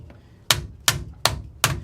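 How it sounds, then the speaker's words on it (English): A rubber mallet pounds a cap into place with four firm, evenly spaced thumps, close and dull, each dying away quickly before the next strike. "I always try to pound with a rubber mallet rather than a hard hammer."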